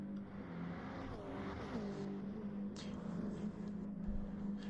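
Toyota 86 race cars in a one-make racing series circle the track together, engines droning steadily with rising and falling pitch as cars pass, continuous and moderately distant with no talk.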